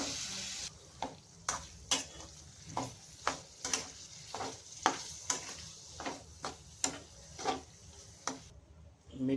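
Shevala, a wild vegetable, drops into hot tempering over a wood stove and is stirred, giving a low sizzle broken by a regular series of sharp scraping clacks about once a second, close by.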